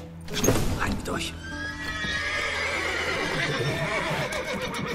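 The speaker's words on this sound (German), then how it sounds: "Ich muss die Pferde beruhigen, bevor sie die Wachen aufwerfen" Horses whinny and neigh in The Witcher 3 game, a loud burst early on, then steady clip-clopping hooves and restless stamping beneath game voices.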